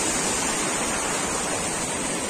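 Water near Tarsar Lake rushes in a constant loud broadband wash, steady flowing noise filling the whole stretch without pauses or voices.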